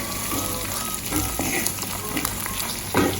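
Saltfish, cucumber and onion fry in a pan for a Jamaican family meal, giving a steady, close sizzle with a few louder crackles and stirring clinks near the end.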